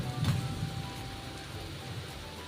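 Chana dal with green chillies and chopped tomato frying in a kadai, giving a steady, close crackling sizzle that holds at an even level throughout with no talk.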